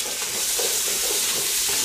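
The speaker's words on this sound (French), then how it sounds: "Et je vais faire revenir tout ça 2 minutes." Garlic, thyme and a bouquet garni sautéing in a pan for veal Marengo give off a steady, close hiss of sizzling with light stirring throughout, and no voices are heard.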